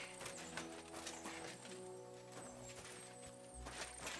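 Horse hooves clip-clop steadily at a walk in the medieval video game Kingdom Come: Deliverance II, close and clear over a layered ambient background, with no talk.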